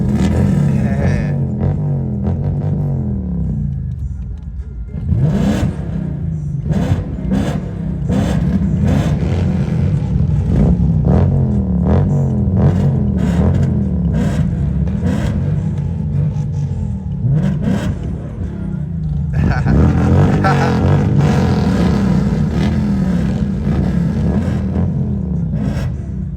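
Motorcycles in a biker crew rev their engines in traffic, a loud continuous rumble with repeated throttle blips and rising whines, nearby and sustained.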